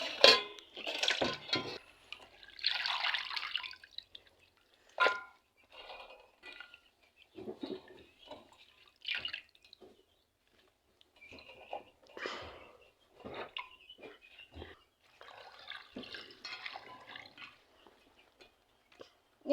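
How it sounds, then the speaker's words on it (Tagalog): Water dripping and splashing intermittently during a third rinse at a rural provincial home, heard as quiet scattered drips, light splashes and small clinks with pauses between them and no talking. "At hugasan ko siya, bali pangatlong hugas."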